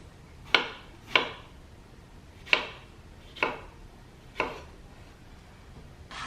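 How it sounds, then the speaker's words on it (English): A kitchen knife slices strawberries on a cutting board, five crisp distinct chops at an uneven, unhurried pace, close and clear with no talking. "I'm just going to slice the strawberries"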